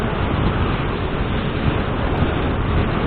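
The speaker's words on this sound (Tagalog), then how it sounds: "Lakas ng hangin mga boss." Strong wind roars steadily across the microphone while riding a 2024 Raider 150 Fi motorcycle on a wide, open road climbing toward Malungon, a dense continuous rush with no pauses.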